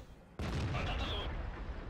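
A single sudden heavy tank cannon boom in World of Tanks erupts after a brief quiet moment, then rumbles and roars on loudly.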